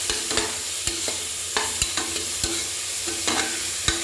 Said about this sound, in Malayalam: ഇതെല്ലാം കൂടെ ഒന്ന് മിക്സ് ചെയ്ത് നന്നായിട്ട് ബ്രൗൺ കളർ ആകുന്നത് വരെ നമുക്ക് വഴറ്റിയെടുക്കാം